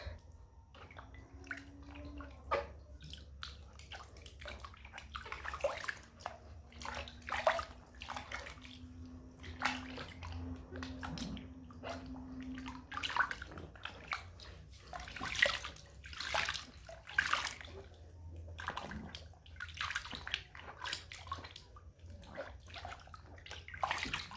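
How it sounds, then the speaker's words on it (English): Feet are rinsed in a basin of water, soft sloshing and splashing in irregular bursts, close and fairly quiet, with a faint low hum running underneath. "All right, so I'm going ahead to rinse my feet."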